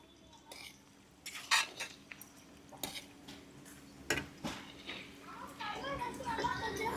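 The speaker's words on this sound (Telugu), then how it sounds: "ఇప్పుడు ఒకసారి తిప్పుకొని దించేసుకుందాం." A spoon stirs fish pickle masala for Koramenu fish pickle in a pan, giving scattered metallic clinks and scrapes over a low background hum, with a voice talking over the stirring.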